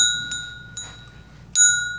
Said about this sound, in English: It's like my grandmother ringing the bell, like, dinner time!